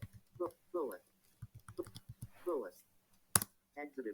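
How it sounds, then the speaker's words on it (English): A computer keyboard is tapped in short bursts to enter a password, light clicks scattered between phrases of nearby speech, with one sharper click near the end. "All I need to do is I need to type in my password"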